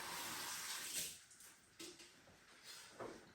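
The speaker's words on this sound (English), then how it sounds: "Just wash my hands a little." Kitchen tap water running while hands are washed, a faint continuous splashing hiss with soft shifts in flow and a few brief knocks, quiet and with no talk.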